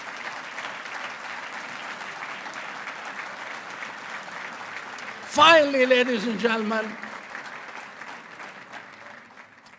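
An audience applauds at a formal speech event, a broad steady clapping that carries on beneath a voice addressing the room, swelling briefly before fading.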